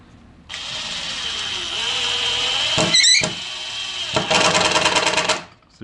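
A Kobalt 24-volt XTR cordless drill drives a screw at its lowest power setting, whirring steadily for several seconds, briefly stopping and restarting, then ending in a rapid buzzing ratchet as the clutch slips, close and fairly loud.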